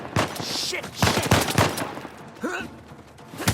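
Sniper and rifle fire in Uncharted: A Thief's End, several sharp loud cracks in quick succession across a tense firefight, with a short voice near the end.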